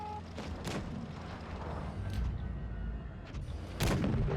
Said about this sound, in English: And there's the kill shot.